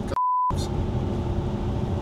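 A single steady censor beep, a pure tone lasting about a third of a second, cutting through the background noise of a car, with a low rumble continuing afterward.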